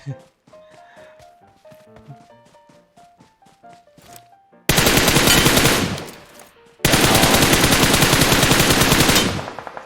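Gunfire in the PUBG Mobile video game arrives as two long, loud bursts of rapid automatic shots after a quiet stretch of soft plucked tones and light footsteps.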